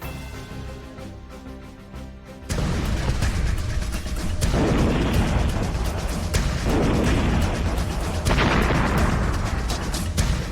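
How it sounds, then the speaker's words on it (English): Missile explosions striking Kyiv during the Russia–Ukraine war come through as a continuous heavy rumble of booms and blasts, loud and dense, with repeated surges after a quieter opening stretch. "a series of explosions struck Kiev and several other Ukrainian cities"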